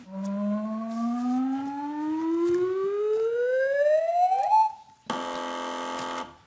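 A rising, siren-like wind-up tone climbs steadily for several seconds on a TV panel quiz show, then a brief pause before a loud, flat electronic buzzer sounds for about a second.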